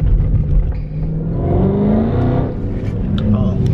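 A 2022 Dodge Charger SRT Hellcat Widebody with a mid-muffler delete revs up, its throaty engine note climbing and holding loud and close for several seconds.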